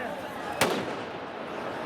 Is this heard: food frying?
no